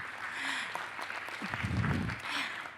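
Audience applause at a high-level roundtable panel on nature, health and agriculture in cities: a steady, dense patter of many hands clapping through the whole stretch, moderately loud, with a fuller burst midway.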